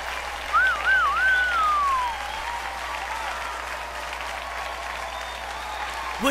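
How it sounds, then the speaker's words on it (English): A crowd in the game Sonicomi cheers and applauds in a dense, continuous roar, with a single sliding whistle rising above it near the start. "Whatever she's about to say is drowned out by a loud cheer."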